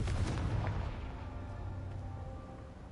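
Confringo fire spell blast in Hogwarts Legacy, a single heavy boom at the start whose rumble decays slowly over a few seconds, loud and close.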